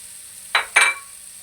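A chopped medium onion frying in a pan with about two spoons of oil gives two short sizzling bursts in quick succession, close and fairly loud, then quiet.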